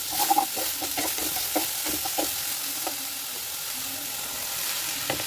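Chopped onions stir-fried in a pan for veg momo filling, a spatula clacking and scraping in uneven strokes over a low, steady sizzle, close and fairly loud.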